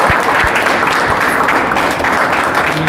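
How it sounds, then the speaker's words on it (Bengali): Students at a defence academy New Year celebration clapping together during a cake cutting, a dense, loud, steady wash of applause from a large group that continues throughout. "হাততালি দাও সবাই"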